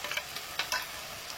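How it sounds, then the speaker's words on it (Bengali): Potato and pointed gourd pieces frying in a pan for a fish roe curry, a soft steady sizzle with a few brief stirring scrapes. "আলু আর পটলটা এত সুন্দর করে ভাজা হচ্ছে"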